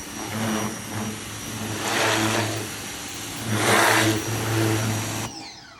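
An electric RYOBI 1800 PSI pressure washer hums steadily as it blasts dirt off a child's toy, its motor drone swelling in several louder bursts of spray, close and loud, with no talking.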